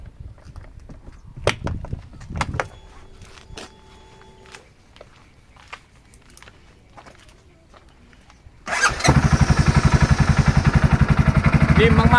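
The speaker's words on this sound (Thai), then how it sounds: "มาฟังเสียงเครื่องยนต์กัน" A used 2023 CFMOTO X520 ATV starts up after a few clicks and handling noises, then its engine runs loud and close with a rapid, even idle thrum.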